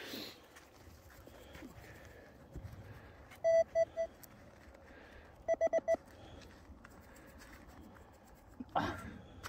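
An XP Deus 3 metal detector gives short clusters of electronic beeps over a signal outdoors, two quick groups of tones with quiet ambient noise around them.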